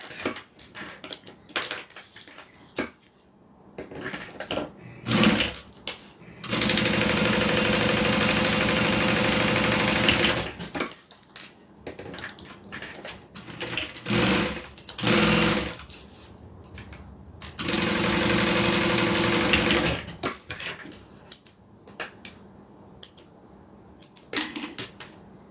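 A sewing machine stitching down both sides of a custom order runs in two long, loud, steady bursts of rapid mechanical whirring, separated and surrounded by quieter handling clatter and small knocks.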